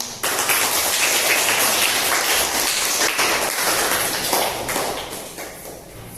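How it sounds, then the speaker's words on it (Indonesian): Classroom of children clapping together after a lesson on human growth stages, a dense, steady patter of small hands for several seconds that thins out toward the end. "tepuk tangan"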